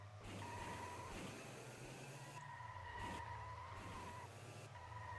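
A car drifts in a modded racing game, its tires skidding in long sustained screeches over a steady engine drone, loud and continuous with no talking.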